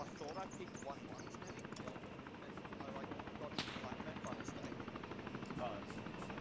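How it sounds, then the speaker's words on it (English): Friendly gunfire in the military video game Arma 3, with scattered shots and bursts under a constant helicopter drone, moderately loud, with a few sharper cracks near the middle. "That is still just our friendlies firing down, right?"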